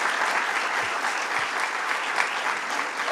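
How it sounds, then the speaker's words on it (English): An audience at a Bronx government event gives a strong round of applause, dense sustained clapping from a large crowd filling the room continuously. "Let's give the Speaker a strong round of applause"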